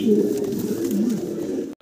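Pigeons at a wholesale dealer's coop coo in a steady series of low, warbling calls, close and clear, with brief pauses between phrases before a short break near the end.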